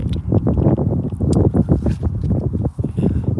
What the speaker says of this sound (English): the wind's getting up a little bit.